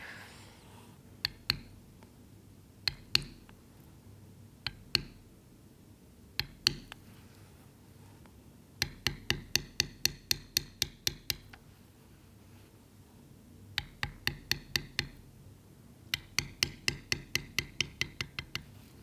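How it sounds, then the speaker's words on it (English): A small maul strikes a metal beveling tool into leather while tooling a keychain brand, giving crisp tapping in quick clusters of evenly spaced knocks separated by short pauses, close and fairly quiet. "when I bevel, I always use my smaller maul because you don't want to tire your arm out"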